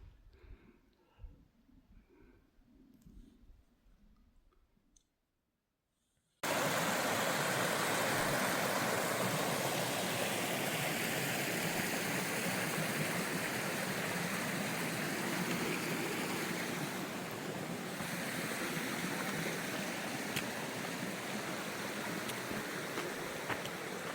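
A Colorado mountain stream rushes along a high-elevation trail, a loud, dense, continuous water roar that starts abruptly after some quieter rustling and murmured talk, then holds steady up close.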